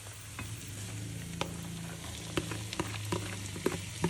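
Onion and bell peppers fry in oil in a pan for stuffed squid filling, a steady close sizzle with scattered utensil clicks and scraping as the mixture is stirred.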